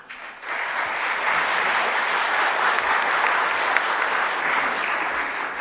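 An audience at a talk on social media claps for the speakers, a steady, even wash of applause that starts abruptly and holds at moderate loudness throughout, with no voices over it.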